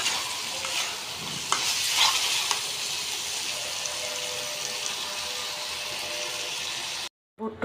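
Chickpeas being stir-fried in a pan, a continuous sizzle with scraping stirs and a few louder knocks, ending in a brief cut to silence.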